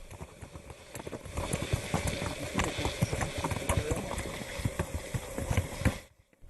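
Horse hooves clip-clop steadily along a rural path in the Colombian countryside, a brisk, uneven patter of close, loud hoofbeats that stops abruptly near the end.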